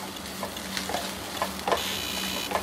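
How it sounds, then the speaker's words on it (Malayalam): Onions sauté in a pan with salt, a steady close sizzle broken by regular scraping stirs roughly every half second. "എന്നിട്ട് ഒന്ന് ജസ്റ്റ് കുറച്ച് നേരം ഒന്ന് വഴറ്റി കൊടുക്കുക"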